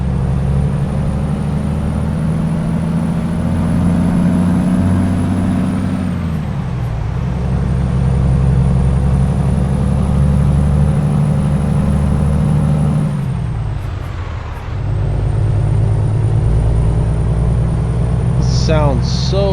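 Heavy truck engine idling in a truck simulator game, a steady loud diesel rumble with a constant whine on top, dipping briefly twice as the revs shift, alone with no voices over it.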